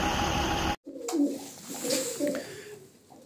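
Pigeons coo softly in a loft, a few low, rolling calls close by, following a burst of noise that cuts off abruptly.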